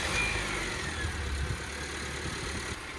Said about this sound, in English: I'm gonna start the car for like 5 minutes, make sure there's no leaks under there